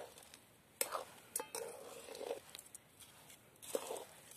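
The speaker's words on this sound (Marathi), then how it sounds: "तर आता हा गूळ चांगला मिक्स करून घ्यायचा आहे" Jaggery being stirred into lapshi porridge in a pot, with soft scraping and clinking of a spoon against the pot, a few sharper knocks, all quiet and close.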